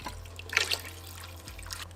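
Water or chicken broth is poured into a soup pot, a short close splashing trickle peaking early, then fading over a low hum.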